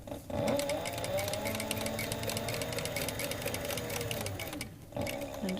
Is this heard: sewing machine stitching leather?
yes